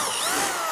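A power drill grinds steadily through a rivet head on the control arm of a 1978 Silver Anniversary Corvette, a brief continuous high-pitched whine close to the microphone.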